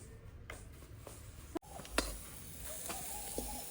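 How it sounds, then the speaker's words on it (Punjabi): Chilli and vegetables for a cauliflower dish sizzle quietly in hot oil as a tempering is added, a soft steady frying hiss with a few clinks and stirring sounds in a home kitchen. "ਲੋ ਜੀ ਆਪਣੀ ਸਬਜ਼ੀ ਨੂੰ ਤੜਕਾ ਲੱਗ ਰਿਹਾ ਹੈਗਾ"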